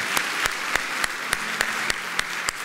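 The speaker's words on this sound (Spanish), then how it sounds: "Un aplauso a aquel joven" A church congregation applauds for a young man, steady clapping with a regular beat of sharper, louder claps roughly every third of a second, moderately close.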